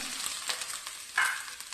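Grated coconut dropped into hot oil with popped mustard seeds and curry leaves for a Kerala pumpkin erissery, giving a steady close sizzle and crackle with a brief louder burst as it is stirred.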